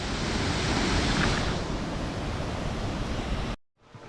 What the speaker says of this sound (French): j'avais entendu une micro cascade